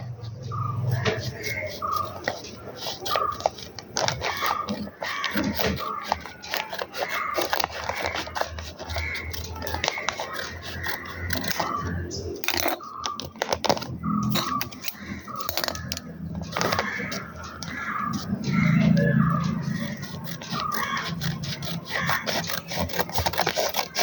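A package is cut open and unpacked, with close crinkling, snipping and rustling of packaging plus small clicks and knocks throughout, mixed with some voice.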